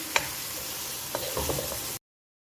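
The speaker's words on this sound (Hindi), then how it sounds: "प्याज को मैं लाइट गोल्डन ब्राउन होने तक फ्राई करूँगी।" Sliced onions frying in hot cooking oil, a steady close sizzle with a couple of faint stirring taps, lasting about two seconds before cutting to silence.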